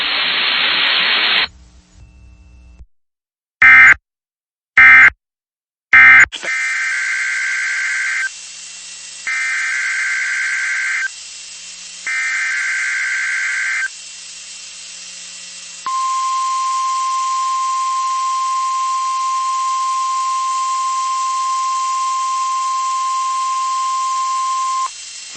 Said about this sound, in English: This is a test of the NOAA weather radio warning alarm device.